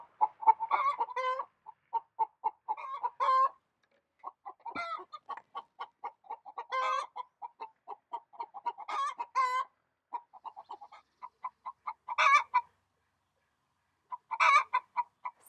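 A broody mother hen clucks in short, repeated bursts of throaty calls separated by pauses, close and moderately loud, with no voices present.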